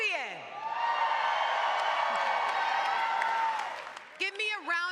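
A basketball championship crowd at an Unrivaled game applauds and cheers, a sustained roar of clapping and whoops building and then fading, with an amplified voice cutting in at the end.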